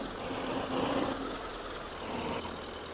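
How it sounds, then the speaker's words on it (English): Noisy tractor engine in a wilderness survival video game, a steady rough drone running continuously at moderate level with a slight swell in the middle. "This is quite a noisy tractor."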